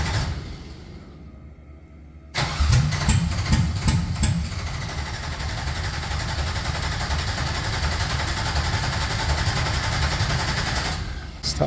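A Chevrolet C10 truck's LS V8 quiet at first, then abruptly cranking with a few sharp bursts before settling into a loud, continuous low rumble that runs to the end, with faint voices.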